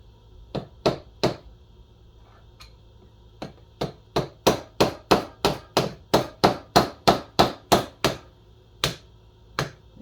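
Sharp, ringing hammer blows on metal: a few strikes, a pause, then a fast steady run of about fifteen evenly spaced hits, and two final blows.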